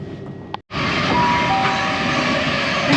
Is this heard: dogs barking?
no